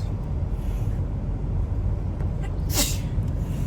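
A single sharp sneeze bursts out near the end, close and loud, over a low steady background rumble at an indoor water park.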